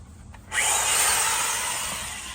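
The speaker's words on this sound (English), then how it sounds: "then drill the other side, and then I'm gonna drill the spinner" A power drill bores through the side panel of an Arcade1up arcade cabinet, a loud steady whir starting abruptly and holding for about two seconds, close and alone.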